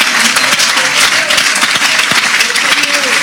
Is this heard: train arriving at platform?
no